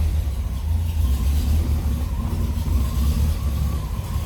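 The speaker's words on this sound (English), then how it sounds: "Here's that 326. Nice little rumble out of it. Sounds good. Nice low idle." A 1966 Pontiac LeMans convertible with a 326 V8 idles low and steady, a close, even rumble with no talk over it.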